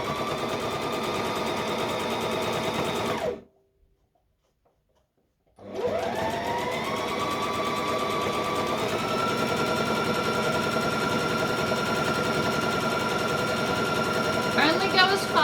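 A sewing machine top stitches around a small fabric dice bag in long runs of rapid, close stitching. A silent pause of a couple of seconds breaks the sewing before it resumes and steadily picks up speed.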